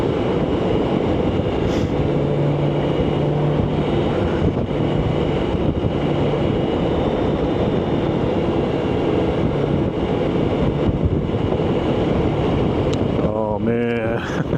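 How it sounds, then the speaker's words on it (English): Strong wind roars and buffets a rider on a BMW K1600 GTL motorcycle in New Mexico, a loud, constant rushing wash with engine hum beneath, running steadily throughout with a brief burst of clatter near the end. "Oh man, this wind."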